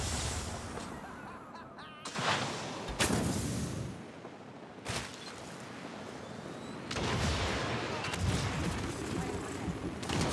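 Gunfire in the battle royale shooter Apex Legends, with several sharp bursts and rattling volleys, moderately loud, mixed with players' voices talking.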